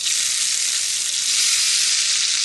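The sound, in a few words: hash browns sizzling in hot oiled pan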